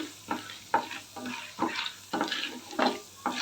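Spices fry in a pan for masala ragi dosa, with a busy oil sizzle broken by regular scraping stirs of a spoon roughly every half second, close and alone.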